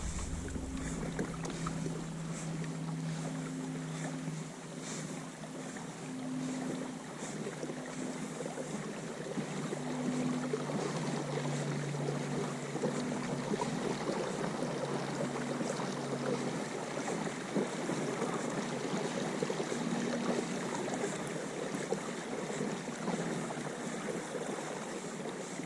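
An Old Town Sportsman 106 pedal kayak cruises steadily across open water, giving a continuous broadband rush of water and wind with a faint rhythmic pedal drive hum underneath, close and fairly loud throughout.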